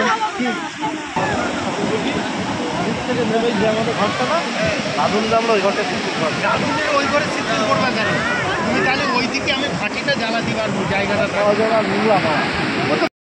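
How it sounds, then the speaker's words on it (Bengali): Big sea waves break on the beach at Puri in the early morning, a loud, continuous surging roar of surf with a crowd's babble and voices underneath. "কি বড় ঢেউ চলে এসছে।"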